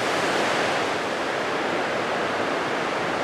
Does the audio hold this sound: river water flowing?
yes